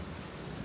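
Steady rain falling with a thunderstorm, a dense continuous broadband hiss with low rumbling underneath, even and unbroken throughout the brief moment, with no voices.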